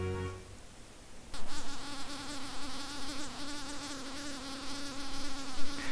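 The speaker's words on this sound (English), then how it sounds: "That is her vibrating her wing muscles to help tamp the sand down, to help bed in the little rocks." Female Podalonia sand wasp buzzing as she vibrates her wing muscles to tamp sand down, a close, steady high whine that starts abruptly and holds with slight wavering, alone over faint background.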